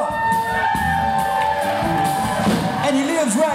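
A concert audience in Nashville cheers, whoops and shouts loudly for an electric bass player being introduced, with a voice over the crowd noise and lively yells throughout the short burst.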